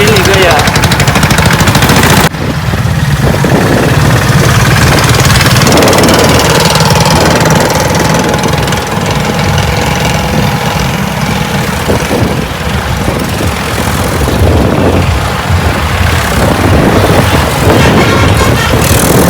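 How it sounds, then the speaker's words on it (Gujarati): Loud, continuous rumble of many tractor engines running together in a rally, thumping steadily, with voices talking over the din. "ટ્રેક્ટરની રેલી છે આ બાજુ"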